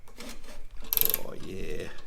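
A ratchet wrench works bolts loose on a TVR Cerbera engine during a teardown: one short, quick burst of metallic clicking amid quieter workshop handling noises.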